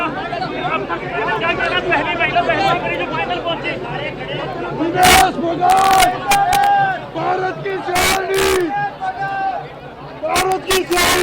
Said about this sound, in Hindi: तो यहाँ पर बहुत ज्यादा भीड़ है